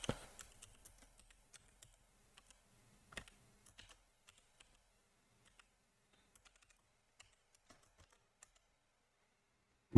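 Someone types values on a computer keyboard, giving quick soft key clicks that come in a burst at first, then scattered single taps with long pauses between them, close by in a quiet room.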